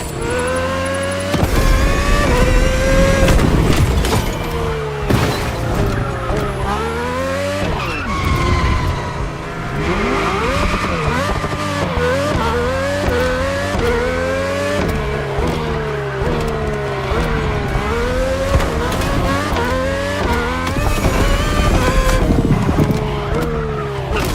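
Race cars roar through The Crew Motorfest game, engines rising and falling through gear changes with sustained tire squeal and skidding, loud and continuous for the whole stretch, with no talking.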